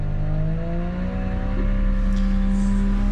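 Farm wheel loader's diesel engine rising in pitch and speed as the machine pulls away, a steady close drone with climbing tones and no voices.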